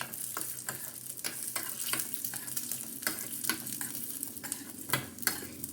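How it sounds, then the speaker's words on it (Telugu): Small cut pieces of coconut fry in a pan, a quiet, steady sizzle broken by repeated sharp scrapes and taps of a spoon stirring at an irregular pace. "ఈ కొబ్బరి అన్నది ఇందులో వేసుకొని ఫస్ట్ ఫ్రై చేసుకోవాలి"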